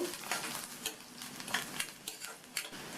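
Torn tamarind sautés lightly in a hot pan for chutney, giving a soft sizzle under quiet, intermittent spoon strokes and a few faint metallic clinks, close but low in level.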